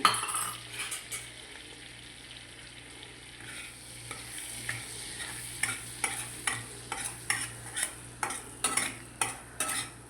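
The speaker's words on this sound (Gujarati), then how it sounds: "તો હવે આપણા અંદર હિંગ નાખી દઈએ જો હિંગ નાખી" Asafoetida drops into hot butter in a pan for a paneer bhurji tempering, sizzling softly while a spoon scrapes and taps the pan in a quick, regular stirring rhythm.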